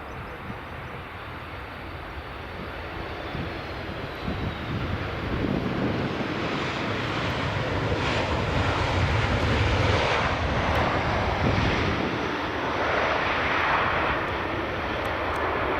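A Boeing 737 Max jet at Edinburgh Airport roars past, its broad engine noise building from moderate to loud and holding steady, with wind buffeting the microphone outdoors.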